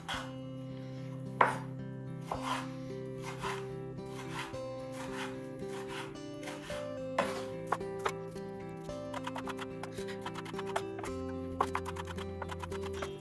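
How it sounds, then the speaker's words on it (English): A knife chops Roma tomatoes and other vegetables on a board for a fresh sweet corn salad, with steady rhythmic knocks and quicker bursts of taps under background music. "we've got all of our veggies chopped"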